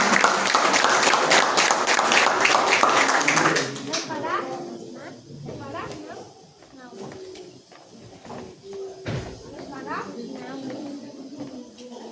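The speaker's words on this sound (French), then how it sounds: "On applaudit." Wedding guests applaud loudly for a few seconds at a ceremony, then the clapping fades into scattered claps and murmuring crowd noise with voices in the room.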